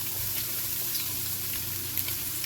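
Sliced peppers sizzle and crackle steadily in a hot skillet, a continuous close frying hiss with faint pops, ahead of smoked sausage, onions and mushrooms being added.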